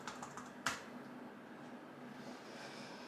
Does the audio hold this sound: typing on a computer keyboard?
yes